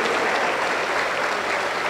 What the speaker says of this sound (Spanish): Un fuerte aplauso para el Señor Jesús